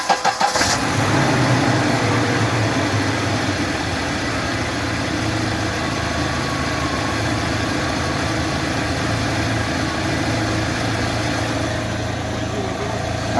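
A 2017 UAZ Patriot engine, cold after sitting an hour or so and suspected of an internal knock, cranks and catches, then runs at a steady loud idle close by for the rest of the clip.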